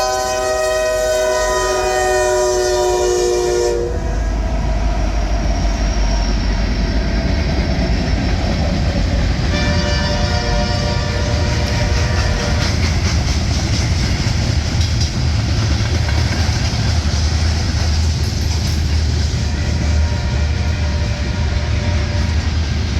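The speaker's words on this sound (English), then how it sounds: "This next train has the common locomotive leading on the D&H." A D&H freight train with its locomotive in the lead passes close by. It opens with a long, loud horn blast and then gives a continuous heavy roll of rail cars clattering past, with a second horn sounding partway through.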